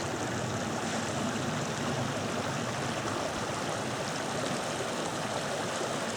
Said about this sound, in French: Tout près d'une petite rivière.